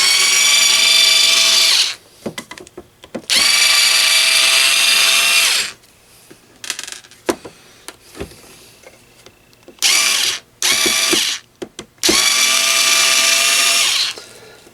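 A power drill whirs in several long bursts separated by pauses, removing screws from a Yaesu FT-726R radio, with clicks and handling noises between runs, close up.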